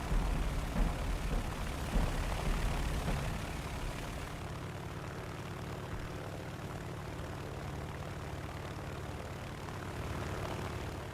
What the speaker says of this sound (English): Also decently quick, this aircraft.